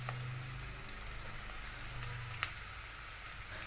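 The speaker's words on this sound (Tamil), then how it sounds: "இப்போ எண்ணெயில் இதை ஃப்ரை பண்ணிக்கலாம்" Small clumps of cabbage pakoda batter frying in hot oil, a steady dense sizzle and crackle with a faint low hum underneath, continuous and close with no voices.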